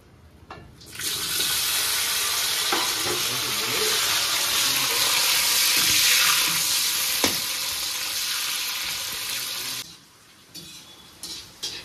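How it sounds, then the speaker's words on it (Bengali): Bitter gourd fries in hot oil with a steady, dense sizzle that runs loud and close for about nine seconds, then cuts off to near quiet. "যেমন প্রথমে করলাটাকে ভেজে নিচ্ছি"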